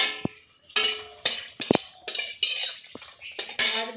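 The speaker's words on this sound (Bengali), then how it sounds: "তো আমি শাকটা করার জন্য আমি দিয়ে দিচ্ছি দুটো শুকনো লঙ্কা।" Two dried red chillies drop into a hot pan of oil, with a handful of clear metallic clinks and scrapes in bursts and brief crackles in between, close and fairly loud.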